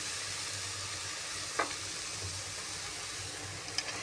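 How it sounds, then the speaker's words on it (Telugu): Cabbage frying in a pan over a low gas flame makes a soft, even sizzle, fairly quiet, with a couple of brief utensil clinks against the pan and no one speaking. "సిమ్లో పెట్టుకొని గ్యాస్ మంచిగా ఫ్రై చేయాలి 5 నిమిషాలు"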